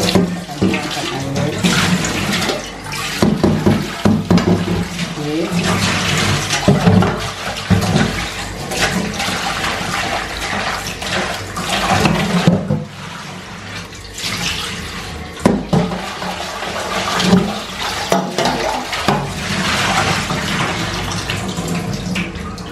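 Water is poured and drained off marinated pork into a sink, a loud, continuous splashing stream that surges and eases in uneven pulses.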